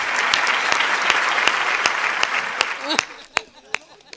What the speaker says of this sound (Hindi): ताली अभी भी कमजोर है आपकी